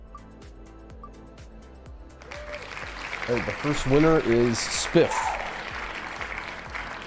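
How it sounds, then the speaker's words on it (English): A voice speaks, then clapping and cheering erupt and carry on steadily, loud and close, with a brief excited yell. "I like the clap, the clap and the cheering."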